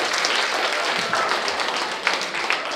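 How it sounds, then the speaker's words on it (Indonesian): Brief, steady applause from an audience at a school scripture quiz competition, a dense wash of clapping for a team with a few sharper individual claps near the end. "Tepuk tangan sekali lagi untuk kelompok 2."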